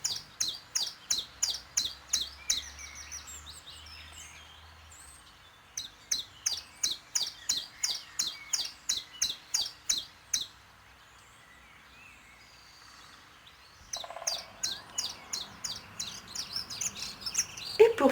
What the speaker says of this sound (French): le pouillot véloce,